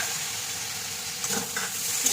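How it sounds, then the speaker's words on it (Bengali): Spices with turmeric fry in a pan for a mixed vegetable curry, a steady close sizzle with a couple of brief stirring scrapes near the end. "হলুদ দিয়ে দিলাম একটু ভাজা করে এটাকে"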